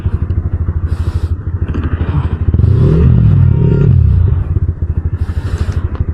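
Modified exhaust on a Yamaha R15 V4 motorcycle, a loud, close engine note that rises sharply through a gear shift before dropping back to a pulsing idle-like throb.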